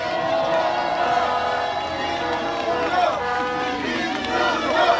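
Rally crowd at an outdoor political gathering applauding and cheering loudly, with dense continuous clapping and shouts over a few seconds.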